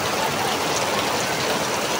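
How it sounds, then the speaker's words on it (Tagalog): Heavy, unbroken rain pours steadily in Tagkawayan, Quezon, a dense close hiss with no pauses or other sounds. "talagang walang humpay ang pag-ulan"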